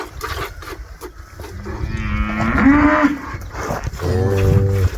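A calf at milking time moos loudly and close by in two drawn-out, wavering calls, with a quieter stretch between them and no talking.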